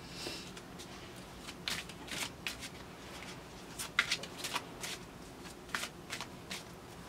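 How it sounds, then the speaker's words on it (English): Tarot cards are shuffled close up in a quiet room, a soft papery riffling with quick irregular flutters and taps. "the dropping of the card while shuffling"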